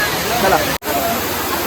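A waterfall on Lohagad mountain during a rainy-season trek, a constant broadband roar with a person talking over it and a brief dropout midway.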